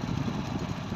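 Motorcycle engine running while riding at dusk, a steady mid-pitched drone with rough low rumble, close and continuous.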